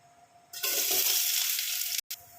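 A sudden loud sizzle as onion and curry leaves hit overheated oil, a steady crackling hiss for about a second and a half before cutting off abruptly.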